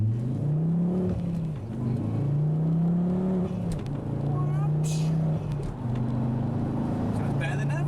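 A Ford Focus ST225 engine revs and accelerates on the road, its drone climbing in pitch and easing back several times, while people talk inside the car over the steady engine noise.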